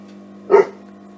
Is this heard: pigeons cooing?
no